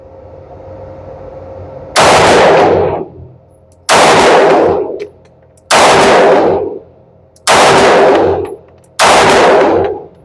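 A Sig Sauer P320 X-Five DH3 9mm pistol fires five loud, sharp shots at a shooting range, spaced roughly two seconds apart, each with a short ringing decay and no voices.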